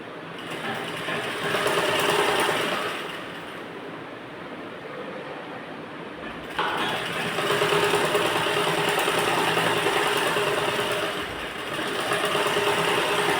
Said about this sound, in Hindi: यहाँ से सिलाई लगाते हैं, देखिए इसको हल्का सा पुश करके खींच के लगाएंगे हम।